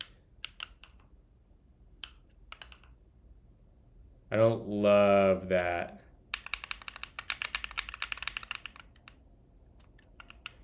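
Computer keyboard keys pressed during a live stream: a few scattered taps, then a brief spoken remark, followed by a fast burst of crisp clicking keystrokes and a couple of final taps.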